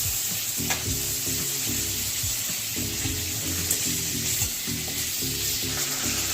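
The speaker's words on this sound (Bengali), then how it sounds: "চিংড়ি মাছটা বেশি কড়া করে ভাজা যাবে না, তাহলে শক্ত হয়ে যাবে।" Prawns frying in hot oil for Bengali potol chingri, a steady close crackling sizzle with occasional stirring clatter throughout, no voices.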